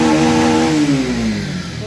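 A motorcycle engine revs as the throttle is opened, a loud close mid-pitched roar with a falling tone as it settles, heard alone without speech.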